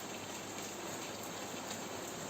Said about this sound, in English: So it's raining in Spain and we've got a bit of a thunder and lightning.